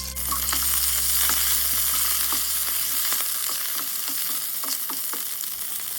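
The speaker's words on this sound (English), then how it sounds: "Add the ginger and scallions and stir fry until aromatic." Ginger and scallions stir-frying in hot oil in a wok over medium-high heat, giving a steady, loud sizzle with scattered sharp clinks of a spatula against the pan, no voices.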